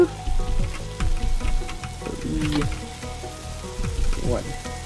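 Burger patties, both plain hamburgers and bacon cheeseburgers, crackle and sizzle on a cooking surface in a steady hiss, with kitchen clatter and voices talking over it.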